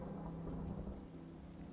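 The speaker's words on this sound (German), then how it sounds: "Ah, okay, es regnet mal." Steady rain falls with a deep, continuous rumble of thunder underneath, dense and unbroken for the whole short stretch.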